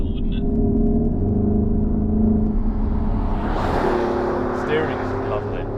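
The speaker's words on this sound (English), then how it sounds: "this is a very powerful V8 hybrid that sounds very natural" A 2023 Porsche Cayenne Turbo with the GT package and a V8 hybrid engine drones steadily while driving, the engine rising slightly toward the end, heard from inside the cabin.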